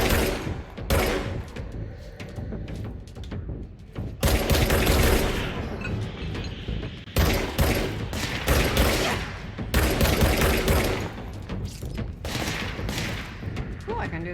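Shotgun fire in the game Control erupts in repeated loud, booming blasts mixed with clattering impacts and chaotic combat noise, close and intense, with a voice talking over it at times.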